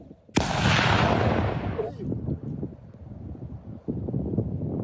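An explosive detonated during neutralization outdoors: one loud, sudden blast followed by a long roaring rumble that fades into wind buffeting and scattered debris sounds.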